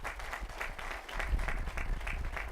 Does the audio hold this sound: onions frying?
no